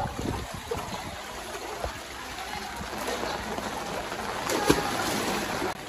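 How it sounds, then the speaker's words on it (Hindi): Floodwater from heavy rain rushes through a flooded street in Jhansi's Taj Compound area, a steady broad roar with occasional splashes and faint voices nearby. "जो भी पानी आ रहा है ना सारा कट के इसी तरफ को आ रहा है हम लोगों के एरिए में"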